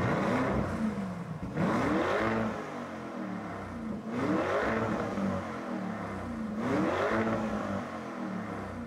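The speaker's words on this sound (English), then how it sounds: "let's give it some revs" A Lamborghini Urus engine revs up hard three times in succession in Strada mode, each rising roar falling back before the next, loud and close with no speech.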